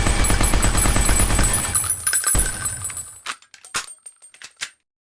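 Weapon reload sound effect in a Unity first-person shooter: a loud sustained mechanical rattle that fades, followed by a handful of sharp metallic clicks and clacks.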